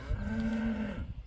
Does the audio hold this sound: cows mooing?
yes